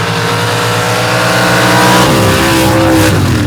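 Two trucks, a K10 and an S10 powered by a 632 big block Chevy, race heads-up at a dirt drag strip: a loud, close engine roar that climbs sharply in pitch as they accelerate, with rising revs through gear changes.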